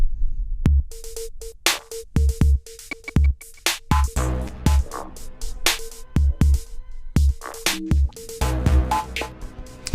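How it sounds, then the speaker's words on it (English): An electronic drum beat thumps along with punchy kicks, snappy hits and a short tonal blip, in a steady, busy rhythm. "I've got this cool little drum beat"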